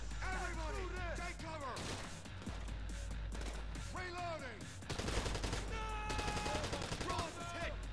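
Video game gunfire comes in rapid, loud bursts of shots with quick automatic volleys, under excited voices of players talking over the action.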